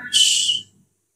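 A voice imitates a whistle during a Quran recitation lesson, producing a single short, sharp, high hiss-like whistle that lasts about half a second and cuts off.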